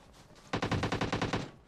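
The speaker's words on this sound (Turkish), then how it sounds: "O adam çok uzaktan bir yerden sıkıyor" A rapid burst of automatic gunfire in PUBG Mobile, fired from far away, cracks about a dozen times in quick succession, slightly muffled, with no talk over it.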